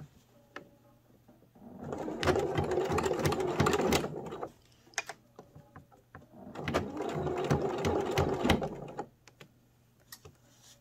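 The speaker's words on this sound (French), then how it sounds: "je vais commencer ma couture à cette distance" Sewing machine stitching a lined zipped pouch through fairly thick layers, in two steady bursts of rapid mechanical chatter separated by a short pause with small handling clicks; no talking.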